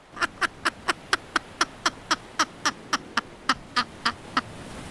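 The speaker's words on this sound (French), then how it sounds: "Avez-vous déjà vu une mouette rire à gorge déployée?" A laughing seagull repeats a loud, evenly spaced series of about sixteen sharp nasal calls, close by and steady in rhythm, with no other voices.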